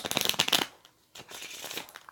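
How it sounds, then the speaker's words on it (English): Lenormand cards are shuffled in close, quick riffling bursts, with a brief pause before a second shorter round of shuffling. "I'm going to shuffle one more time"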